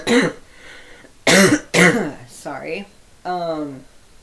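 Several short, loud coughs and throat-clearing bursts from someone who is a little sick, close to the mic, separated by brief pauses.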